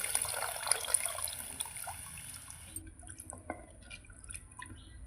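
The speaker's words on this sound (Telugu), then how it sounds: "చేపలకు సరిపోయేంత పోసుకోవాలి చింతపులుసు" Tamarind water is poured over a small-fish curry, a faint splashing trickle for about three seconds that thins to a few quiet drips and dribbles, heard close up with no voices.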